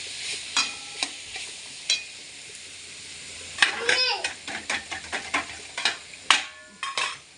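Masala spice paste fries in a pan while a spoon stirs it, with repeated scraping clinks and a soft sizzle close by, and a voice speaks partway through.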